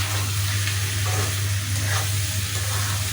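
Pabda fish roe is stirred and fried in a pan, giving a loud, dense, continuous sizzle with a low hum beneath, close and unbroken, no voices.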